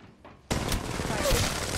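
Gunfire from the Apex Legends Mobile battle royale video game breaks out abruptly after a quiet moment, continuing as a dense, loud burst of rapid shots.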